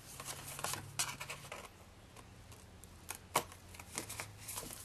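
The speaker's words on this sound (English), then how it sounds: "so I need to come in with my scissors" Scissors trim cardstock for a swing card fancy fold, giving a few faint, quiet snips and soft paper rustles spaced irregularly with no talk.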